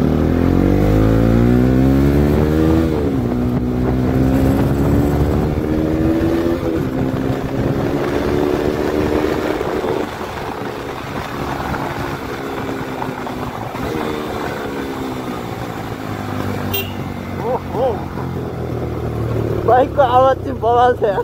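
A motorbike rides through dusty Kathmandu city traffic, its engine droning loud and close with shifting pitch as it speeds up and slows, while someone talks over it.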